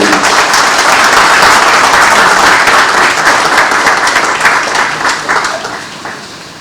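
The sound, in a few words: round of applause for the governor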